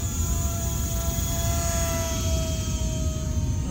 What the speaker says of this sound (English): Felt like the plane is just cruising.